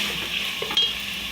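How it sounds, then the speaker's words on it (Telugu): Mint and coriander leaves being stirred in a hot pan with chillies and onions for capsicum biryani, a steady close sizzle with a soft scrape of the spoon partway through. "ఇవి కూడా కొంచెం పచ్చివాసన పోయేదాకా తిప్పుకోవాలి."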